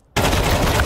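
A loud gunfire burst from Counter-Strike 2 begins abruptly after a brief silence and roars on continuously, dense and close, like a sustained stream of shots rather than one isolated crack.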